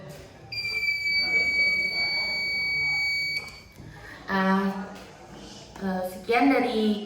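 A fire-detection prototype's buzzer sounds a steady high electronic tone for about three seconds, then cuts out as a person speaks over the remaining quiet hum.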